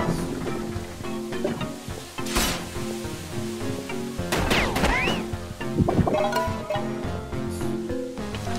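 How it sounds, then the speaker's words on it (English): Vents shattering in the video game Spiral Knights during a challenge run: several sharp crash and smash bursts over continuous game music and effects, with brief whooshing sweeps in between. "shattering the vents."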